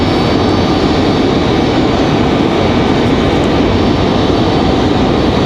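An Embraer E170 jet passes at Raleigh-Durham International Airport, its engines a loud, steady broadband roar that holds unbroken for several seconds.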